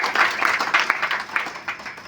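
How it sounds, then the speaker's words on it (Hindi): An audience gives a woman on stage a round of clapping, uneven bursts of many hands that rise and fall, close and moderately loud, tapering off at the end. "तो ऐसे हमारी दीदी के लिए जोरदार तालियां बनती हैं।"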